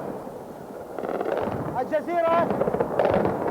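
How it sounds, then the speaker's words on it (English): Anti-aircraft guns and explosions over Baghdad at night come through as distant, irregular booms and crackling bursts, set behind a voice speaking throughout. "Anti-aircraft batteries opened fire just after 10 to 10."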